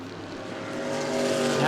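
E-Mod cars racing in a feature on the oval at New Smyrna, engines droning steadily and building louder toward the end, with an announcer talking over the roar.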